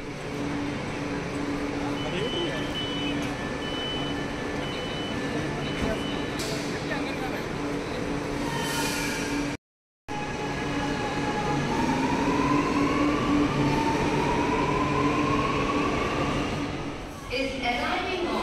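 A metro train rumbles in and slows at a platform, wheels and motors droning with a whining pitch shift, over steady station noise.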